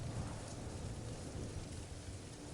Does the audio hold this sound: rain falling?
yes